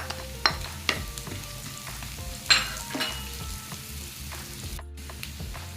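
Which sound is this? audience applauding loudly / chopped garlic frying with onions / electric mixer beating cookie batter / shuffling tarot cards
chopped garlic frying with onions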